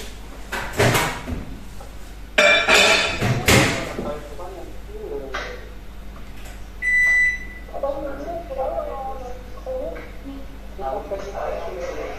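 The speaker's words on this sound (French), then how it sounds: "micro-ondes, 3 minutes." A kitchen microwave oven door clunks, then a short hum and a bright beep follow, mixed with a person talking in French and other loud kitchen handling noises.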